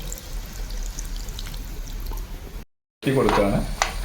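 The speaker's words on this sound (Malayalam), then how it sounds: "അതുകൊണ്ട് നമ്മൾ കുറച്ചുകൂടെ വെള്ളം ഒഴിച്ചു കൊടുക്കുകയാണ്." Water poured into a pan of Kerala-style chicken avial, a steady close pour over a low kitchen hum, a brief silent gap, then a louder splashing burst.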